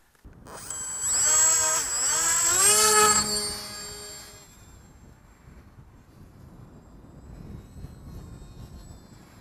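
Sonic Modell HD Wing RC flying wing passing close overhead, a loud whining electric motor with rising and falling pitch for a few seconds before fading to a faint distant drone amid wind noise.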